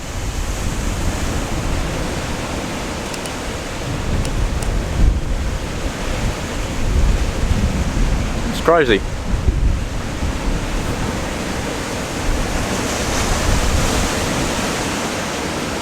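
Ocean waves crash against the South West Australian coastline in a steady, roaring wash of surf mixed with wind buffeting the microphone; a person speaks briefly near the middle.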